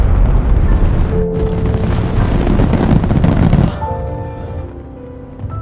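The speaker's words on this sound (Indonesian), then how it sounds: "Lalu San pergi ke pantai dan menyalakan kembang api yang sudah dicampur dengan abu ayahnya" Loud bursts and crackling fireworks booms roll together for several seconds on a beach, then cut to a quieter background with faint tones.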